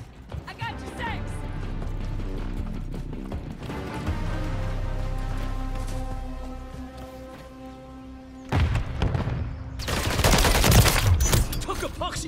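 Game gunfire from Modern Warfare 3 multiplayer, a sustained battle din with heavy low rumble and dense crackling bursts, growing louder and harsher toward the end, mixed with voices.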